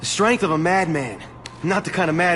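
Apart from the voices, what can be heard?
No everyday noises stand out.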